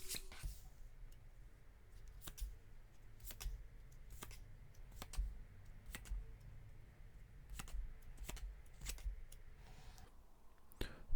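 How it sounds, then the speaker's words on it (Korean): Tarot cards being drawn and shuffled in a quiet room, a series of soft, sharp card flicks and slides spaced about a second apart, faint and close with nothing else over them. "제가 카드 뽑아볼게요"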